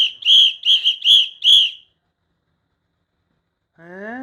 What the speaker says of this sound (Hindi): कोई, फंस गया तो सीटी बजानी है, बुलाना है।